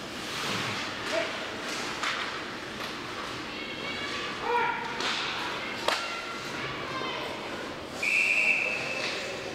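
During an ice hockey final, a referee's whistle gives one clear, sustained high blast near the end. Before it comes arena ambience with stick and puck knocks and a dog-like yelp.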